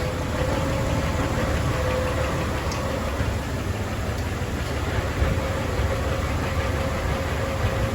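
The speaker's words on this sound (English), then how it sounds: "We can hear our compressor starting to run longer." A Jeep's air conditioning compressor running with a steady, even mechanical hum and engine drone, constant and close, with no voices.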